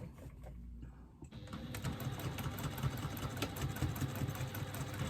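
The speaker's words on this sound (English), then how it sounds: "now I'm going to match up the sides, and again I'm going to stitch them" Sewing machine stitching the side seams of a lining at a 3/8 inch seam allowance, starting after a quiet moment and then whirring steadily and evenly to the end, fairly quiet and close.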